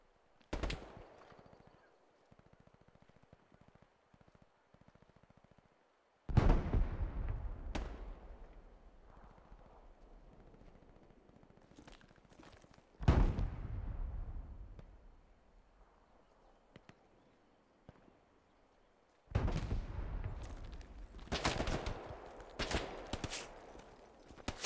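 Gunfire in the tactical shooter Ready Or Not, heard as a few sharp, loud bursts separated by quiet stretches, with a cluster of rapid shots near the end.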